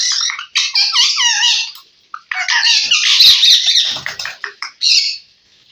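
A talking parakeet, about two years old, at a bird shop calls up close, squawking and chattering in bursts that mimic speech, with short pauses between phrases and no people talking.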